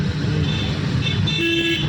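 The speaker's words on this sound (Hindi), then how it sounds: "हॉर्न, लंबा हॉर्न दीजिए।" A car horn sounds in busy road traffic during a driving lesson, a tonal honk rising over the steady rumble of the engine and the surrounding vehicles.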